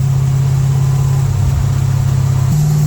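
A car engine with a muffler runs loud and close in a low, uneven rumble, sputtering along before its pitch shifts upward near the end.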